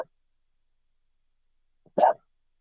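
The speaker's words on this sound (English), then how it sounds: "He's barking at somebody." A single short dog bark rings out, fairly loud and close, after near silence, with only a faint brief sound at the very start.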